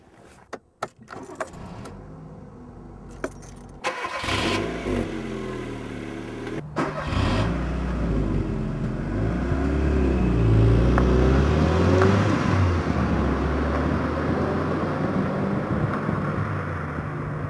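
Keys jangle and click, then the 1.25-litre engine of a 1996 Mk 4 Ford Fiesta Zetec cranks and catches, idles, and revs up steadily into a rising, sustained drone.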